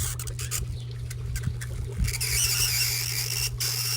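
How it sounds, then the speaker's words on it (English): A metal quarter pressed onto dry ice gives a faint, high-pitched squeal and rattling chatter that comes and goes over a low steady hum, close and quiet, with no talking. "So what you're hearing is that metal vibrating really fast because it's getting so cold"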